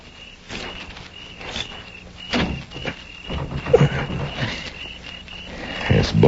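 Radio-drama foley of a hand trying the handle of a bolted door: a series of sharp clicks and rattles spaced across several seconds, over a faint background hum.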